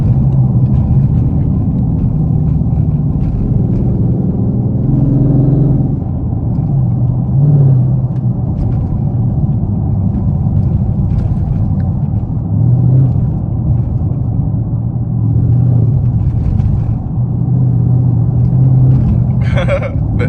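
A Dodge Charger SRT8 cruises fast on a highway, its engine and road noise forming a steady, loud, continuous rumble inside the car, with a voice talking faintly at times.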